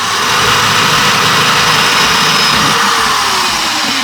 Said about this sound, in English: It's just, you know, a big hole saw